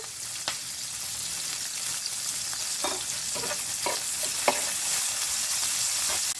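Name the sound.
onions frying in oil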